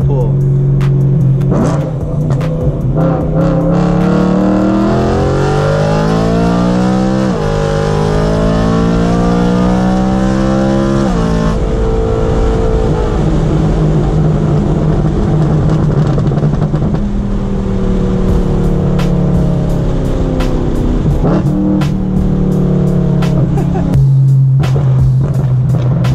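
A BMW E92 M3 with straight-piped exhaust accelerates hard, the engine note climbing through rising pulls with gear changes between them, loud and close from inside the car, with crackles and pops on lift-off.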